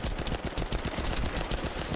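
Rapid, continuous gunfire from a weapon firing lightning-element rounds into the ground in the video game The First Descendant, loud and close with dense overlapping shot bursts and no talk.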